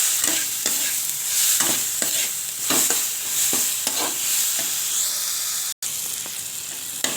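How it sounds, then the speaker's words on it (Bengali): Turmeric and salt are sautéed with spices in a pan for an egg and potato curry with coconut milk and cumin, giving a steady loud sizzle broken by repeated stirring scrapes, with one brief cut near the end. "পরিমাণ মতো হলুদ, পরিমাণ মতো নুন, ভালো করে কষিয়ে নেব।"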